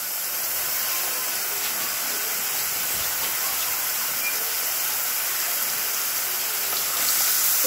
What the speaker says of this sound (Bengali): পানি দিয়ে দেবো, পানি দিয়ে দেবো।